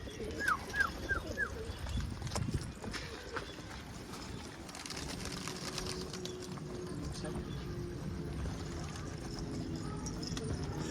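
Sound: flock of birds, pigeons, at a poultry coop

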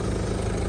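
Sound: Ford car engine idling

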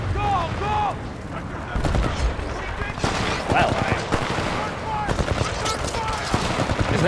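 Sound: gunfire in the video game Titanfall 2

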